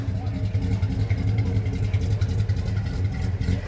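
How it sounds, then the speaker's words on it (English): A 1957 Chevy with a stock six-cylinder engine idling nearby at a car show, a steady low loping rumble with a rhythmic pulse, and someone talking over it. "Oh, listen to her perk here. Remember, this is a 6-cylinder."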